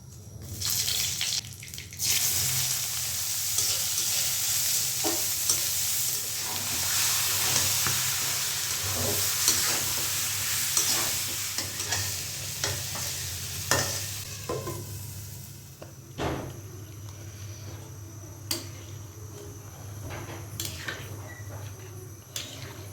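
Meat and fish curry cooking in a pan, a continuous close sizzle with scraping and stirring for most of the stretch, then quieter clinks and clatters of utensils toward the end, with no talking.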